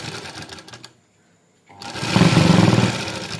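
A sewing machine stitching shalwar fabric onto a rumali panel, running in a fast steady whirring chatter, pausing briefly into near silence, then starting up again close and loud.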